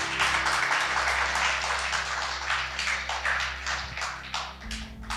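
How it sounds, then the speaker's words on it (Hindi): A church congregation claps together during a sermon, a dense, even patter of many hands lasting several seconds, with a low steady hum underneath. "एक बार ताली जोरदार प्रभु के लिए भी बजा देंगे"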